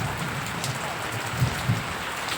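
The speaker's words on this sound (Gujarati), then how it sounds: "અત્યારે અમારા ગામમાં વરસાદ ચાલુ છે" Steady rain pours down on a village, a soft continuous hiss of drops striking surfaces with a couple of slightly louder patters, close and unbroken, with no voices.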